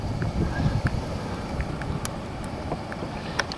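Wind buffets the microphone beside a river with a cut bank, a rough low rumble that gusts unevenly, with faint scattered clicks and splashes over the top.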